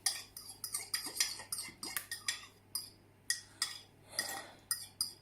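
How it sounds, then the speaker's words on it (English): A spoon scraping the last of some vanilla yogurt out of a tub, a run of quick, close, repeated scrapes and clicks of metal against plastic with short gaps between them. "Let's just scrape that last bit out."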